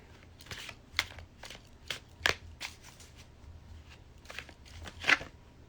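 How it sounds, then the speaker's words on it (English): Tarot cards being shuffled back together by hand, with a series of crisp riffling and flicking bursts at irregular intervals, close up and moderately loud against a quiet room. "Let's put all the cards back together."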